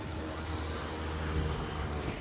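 A broad, steady roar of an airplane passing overhead above a rooftop, continuous and even throughout with no voices.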